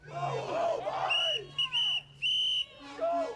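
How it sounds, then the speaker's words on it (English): Shrill warning whistles blown by a crowd in short bursts over shouting, repeated several times and fairly close. "The whistles are a new community tactic to alert people that ICE agents are in the area."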